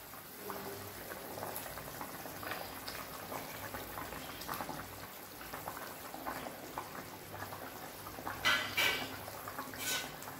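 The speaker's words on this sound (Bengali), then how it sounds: "পাঁচ মিনিট মতন ঝোলটা ফুটুক, তারপরে এর মধ্যে আমি ভাজা মাছ দিয়ে দেবো" Bengali katla fish curry gravy with cauliflower and potato bubbles and pops gently in a pot, with soft irregular bursts and a few louder splutters and utensil clinks near the end.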